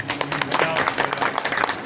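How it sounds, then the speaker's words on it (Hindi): Audience members clap steadily at a teachers' union protest meeting, a dense, continuous patter of many hands carrying on for two seconds with a murmur of crowd noise beneath it. "आप सभी की ताली चाहूंगा इसके लिए।"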